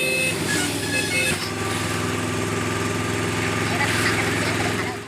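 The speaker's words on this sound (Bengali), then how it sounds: "এখন আমি অটো করে স্টেশনে যাচ্ছি" Steady, close idling of an auto rickshaw engine with a low droning hum and rattle, heard on a ride to the railway station at Tarapith; faint background voices may be present.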